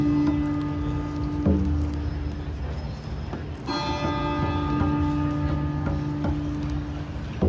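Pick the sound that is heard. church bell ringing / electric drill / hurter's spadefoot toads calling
church bell ringing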